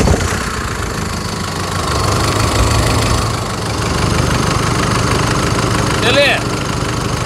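A Chevrolet S10 with the 2.8 engine idles with a loud, rough, steady rumble and a slight knock, its level swelling a little now and then, and a brief squeak near the end.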